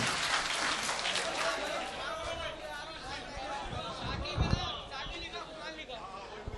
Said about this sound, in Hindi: पुरजोर तालियों से उनका इस्तकबाल किया जाए।